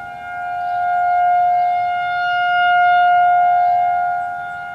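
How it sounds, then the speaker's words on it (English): A Federal 2001 tornado warning siren in Marion County, Indiana wails in a steady, sustained tone, swelling and fading slowly as it rotates, heard loud and outdoors with no voices. "Man, you can really hear that siren. Remember, it's the Federal 2001 model."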